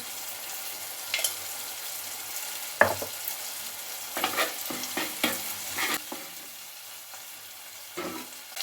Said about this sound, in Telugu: ఇప్పుడైతే అల్లం వెల్లిగడ్డ వేస్తున్నా అల్లం వెల్లుల్లి పేస్టు